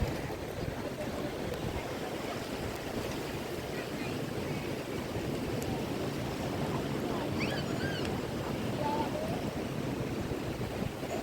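Sea waves roll in at the beach at Digha, a continuous rumbling wash of surf mixed with wind against the microphone, steady throughout with faint voices in the background.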